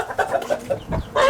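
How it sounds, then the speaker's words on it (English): Chickens cluck in short, quick, clipped bursts, several notes in rapid succession, close and fairly loud with no talking over them. "Chickens."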